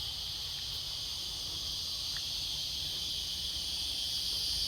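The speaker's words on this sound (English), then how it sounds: "The cicadas are really loud here, so I hope you can hear me." Cicadas buzzing in a steady, high, continuous drone that never lets up, with a low background rumble beneath.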